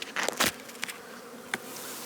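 Honey bees buzz from an opened two-medium hive during a late-season inspection in Newfoundland, a steady close drone with several louder bursts as bees pass near.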